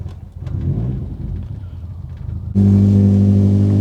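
A BMW E36 engine on a Colorado mountain drive rumbles at first, then jumps into a loud, steady, droning rev that holds to the end.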